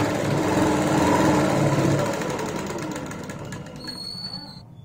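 A sewing machine runs in a fast, continuous buzz while stitching elastic into a round shape, loud and close before slowing and fading toward the end.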